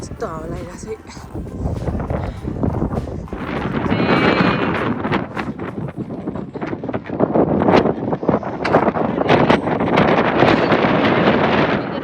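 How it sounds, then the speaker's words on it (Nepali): Strong wind gusting across the snowy slopes of Ben Lomond, Tasmania, a loud rushing roar that swells and buffets the microphone throughout while people talk over it. "यस्तो हावा लागिरहेको छ"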